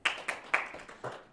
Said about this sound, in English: let's welcome with a big clap